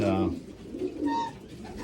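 Modena pigeons cooing inside a community loft, with several soft, rolling coos that repeat close by and overlap one another at a steady moderate level.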